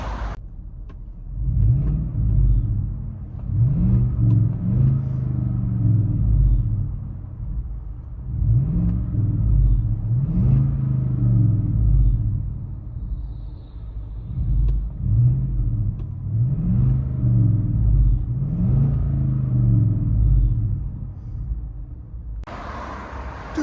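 Inside the cabin of a Chevy Suburban with a 5.3L V8, true dual exhaust and Flowmaster 40 series mufflers, the engine rumbles deep and muffled through several repeated revving swells, steady and fairly loud, without talk.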